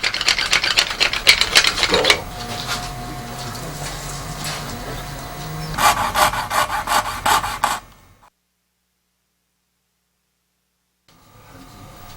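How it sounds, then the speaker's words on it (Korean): A sharp iron skewer scrapes and bores through the joints of a black or mountain bamboo pipe stem, giving bursts of close, raspy rubbing and grinding before the clip drops into near silence. "설대는 오죽이나 산죽, 가남죽으로 만드는데 예리한 쇠꼬챙이로 대나무 마디마디에 구멍을 뚫어 완성한다."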